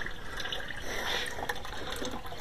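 Water pours steadily into a creek-side tank holding Gammarus scuds, a loud, continuous splashing wash close by that lasts the whole moment without pause.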